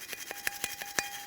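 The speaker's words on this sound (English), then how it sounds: "For this, you can use a wire brush or some sandpaper." A wire brush or sandpaper cleans the mating surface of a brake rotor from a GMC Acadia, a faint rhythmic scraping of about six even strokes in quick succession.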